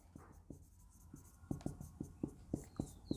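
Handwritten heading strokes on paper during a maths lesson, a series of close, distinct scratchy pen marks in an uneven rhythm, speeding up toward the end, with no talk.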